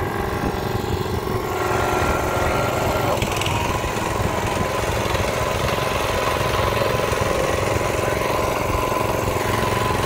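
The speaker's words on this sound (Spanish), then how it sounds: "vamos a ver qué tanto puede caminar esta maquinita" A small engine on a Yardmax track buggy drones steadily as the machine crawls along with a heavy load of about 60 pieces. The engine sounds close and unbroken, with no talk.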